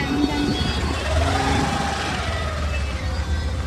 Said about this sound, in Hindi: तो ट्रैक्टर आ रही।